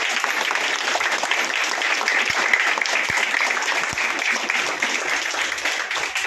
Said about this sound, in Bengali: এই সকলে আরেকবার সুমনা অ্যান্ড ফ্রেন্ডসের সকল গ্রুপকে একবার হাততালি দে